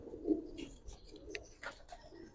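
Giribaz pigeons at a loft give soft, low coos close by, with a few faint higher chirps in a short, quiet stretch.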